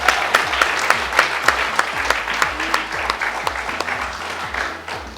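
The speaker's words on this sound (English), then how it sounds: "I think she deserves another round of applause" A round of applause from the audience at a primary school graduation, steady crowd clapping with distinct individual claps standing out near the microphone, holding throughout.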